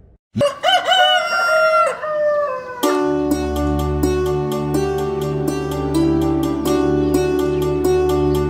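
A country rooster crows loudly and close, a rising cock-a-doodle-doo, followed by a steady sustained tone with repeated sharp clicks running underneath for the rest of the clip.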